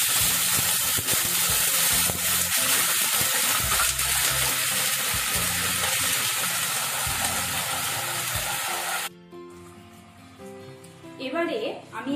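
Ginger paste and a little water poured into hot oil with sizzling tempering spices, giving a loud, steady steamy hiss that suddenly cuts off near the end, after which a voice speaks.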